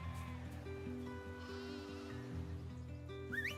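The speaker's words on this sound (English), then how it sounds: "Get those sheep." Sheep bleat in a video game teaser, several high wavering cries scattered over a sustained musical score, faint and in the background.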